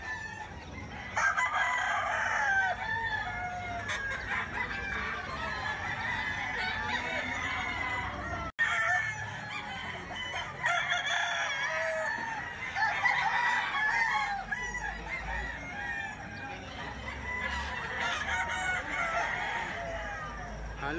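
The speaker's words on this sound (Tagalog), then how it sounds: "tingnan natin mga quality manok" Several roosters crow repeatedly amid a constant chorus of clucking fowl, fairly close and steady.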